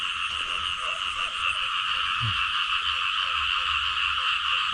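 Frogs croak in a dense, steady chorus during heavy rain in wet rice fields. Repeated rhythmic calls sit over a constant loud background din, with no voices.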